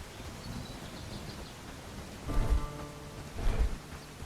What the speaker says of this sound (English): It's quite a lot of rain.